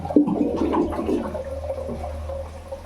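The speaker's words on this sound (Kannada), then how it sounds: "ಸ್ವಲ್ಪ ನೀರು ಹಾಕಿ ಇವಾಗ ಇದಕ್ಕೆ." Water is poured into a cooking pot of chicken gravy, giving a short splashing gush that settles into a softer, steady trickle.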